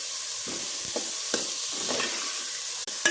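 Chicken curry being stirred in a pan, a soft constant sizzle under several distinct scrapes of the spoon spaced across a few seconds, close and with no talk.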